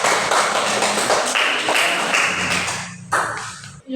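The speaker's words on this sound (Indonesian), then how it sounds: "kita berikan aplaus untuk kamu" Applause for a presenter at the close of a classroom presentation, a burst of close, dense clapping that rings out for a few seconds and then fades.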